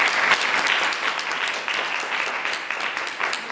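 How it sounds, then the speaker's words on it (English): Audience applause for the opening speakers at a science debate, a full, steady crowd clapping that fills the room throughout with no speech over it. "Another round of applause for them."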